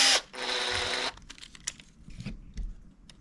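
A powered driver buzzes steadily for about a second while screws go into a Kyosho 1/8 scale differential and bulkhead kit. Small clicks and handling taps of parts follow close by.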